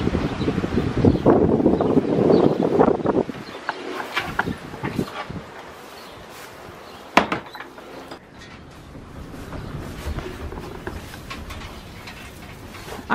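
Strong wind gusts roar and buffet outdoors at a homestead chicken yard, loud at first and then easing into a quieter blustery rush broken by scattered knocks and one sharp bang.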